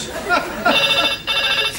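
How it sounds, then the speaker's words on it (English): A telephone rings with a steady, bright electronic trill that starts partway in and continues with a short gap, mixed with a speaking voice. "Phone rang once,"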